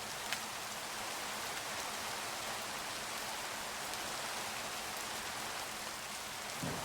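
A steady, dense hiss of heavy rain in the video game Minecraft, loud and continuous with no talk over it.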